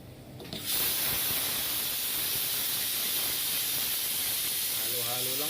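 A loud, continuous hiss of steam escaping from a pressure cooker cooking tuna starts abruptly and holds steady, with faint clattering underneath.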